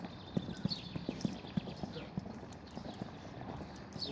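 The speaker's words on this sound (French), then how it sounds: "je mets le galop, je le laisse libre" A horse cantering in a riding arena while jumping is practised, with steady rhythmic hoofbeats at a moderate distance and a faint, airy background.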